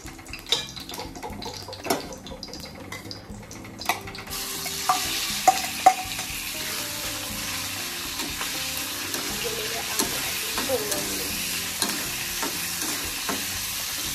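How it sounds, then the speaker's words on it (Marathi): Prawns fry in oil in a hot kadhai for a Malvani-style dish, a steady sizzle that swells louder partway through as they hit the oil, with occasional stirring clinks and scrapes, no talk. "तर आधी ती फ्राय करून घेते वेगळी."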